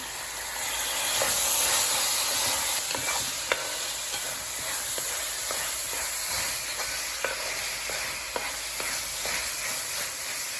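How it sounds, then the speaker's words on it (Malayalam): Three chopped tomatoes go into softened onions in a pan, producing a continuous close sizzle and hiss with regular light taps and scrapes of stirring throughout. "ഇതിലേക്കൊരു 3 തക്കാളിക്ക് അരിഞ്ഞിട്ട് ചേർക്കുവാണ്."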